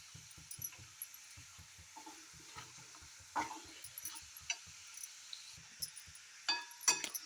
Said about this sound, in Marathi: त्यामध्ये कांदा परतून घेऊ लालसर होईपर्यंत